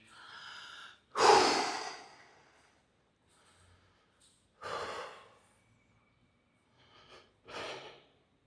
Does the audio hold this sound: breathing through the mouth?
yes